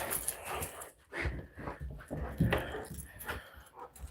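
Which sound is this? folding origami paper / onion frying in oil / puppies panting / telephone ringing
puppies panting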